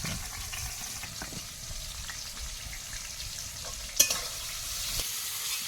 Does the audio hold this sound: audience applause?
no